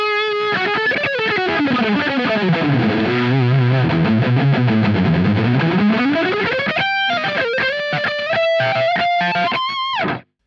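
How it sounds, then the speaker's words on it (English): A thickly distorted electric guitar played through a BOSS Mega Distortion pedal plays alone, sliding and bending lead lines with a fuzzy, saturated tone before cutting off abruptly. "we have like a really thick sounding distortion, a bit more in the fuzz"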